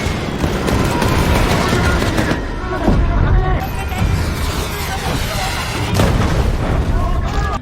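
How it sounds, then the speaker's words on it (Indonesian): Dense, chaotic battle noise aboard a ship under attack: heavy booming explosions and rapid bursts of gunfire overlap continuously, loud and close. "Ledakan hebat pun mengguncang seluruh dek dan menimbulkan kepanikan besar."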